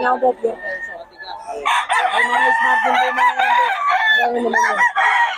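A Kelso gamefowl rooster crows loudly and close by, a short call followed by a longer, sustained cock-a-doodle-doo with a strained, wavering tone.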